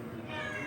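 A house cat gives a single drawn-out meow, close and fairly loud, lasting under a second with no speech over it.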